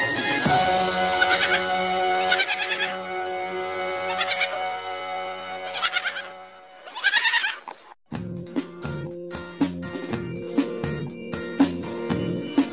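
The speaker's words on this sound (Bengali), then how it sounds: "ছয়ে ছাগল ছানা লাফিয়ে চলে" A goat kid bleats several times in wavering cries, followed by a bright musical passage with plucked tones.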